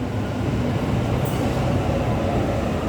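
A Sydney Waratah B-set electric train arriving fast at a station, a loud, steady rumbling roar close by with a brief high squeal partway through.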